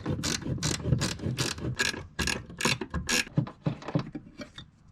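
A hand ratchet loosens an 11mm bolt on a 1994–2004 Ford Mustang during heater core replacement, giving rapid bursts of close, sharp clicking with short pauses between strokes.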